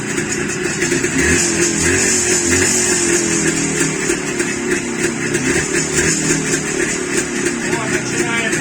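A cold Jawa motorcycle that has sat for a couple of days runs steadily after starting, its engine note loud and continuous with a rough, busy drone throughout.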